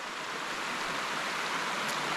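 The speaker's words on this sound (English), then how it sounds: "it's hard to overpower the sound of a roaring river or the rapids here" A roaring river's rapids rush in a continuous broad hiss of churning water, steady and fairly loud with no other sounds.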